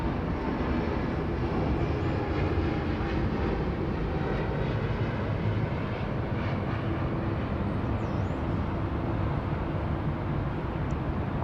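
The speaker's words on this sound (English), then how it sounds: "Alright, away she goes, all class there, the A350." An Airbus A350 jet taking off at Sydney Airport, a steady, loud broadband engine roar that holds evenly throughout with no voices over it.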